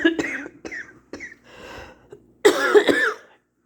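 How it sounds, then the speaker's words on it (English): Dry coughs from one person: several short, close bursts in a row, then a heavier, longer cough after a brief pause. "sometimes I get a little dry and it makes me cough a little bit"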